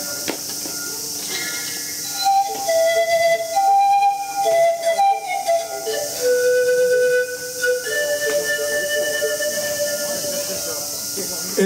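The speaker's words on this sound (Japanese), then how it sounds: "ビール瓶を吹く原理で音が出る、そういう楽器、三方ニャという楽器です" Zampoña panpipes, an Andean instrument of many tubes each sounding one note, play a slow breathy melody of sustained tones over a hissy, airy background at moderate volume.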